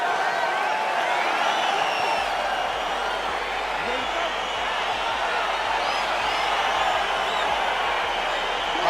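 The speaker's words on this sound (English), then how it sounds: "Crowd getting excited as this fight gets underway" A steady roar of an arena crowd cheering in the UFC 4 video game as a fight gets underway, a continuous wash of voices and whoops at an even level throughout.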